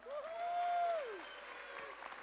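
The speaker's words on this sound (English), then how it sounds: "You have to applaud a little bit more so they hear us in the other room." Audience applauding at a security conference, a continuous broad patter of clapping from a crowd, with a voice rising over it at the start.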